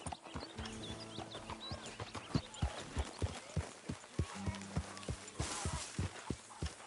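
A horse's hooves clip-clop at a steady walking rhythm in Red Dead Redemption 2, close and fairly loud, with a faint snort or whinny near the end.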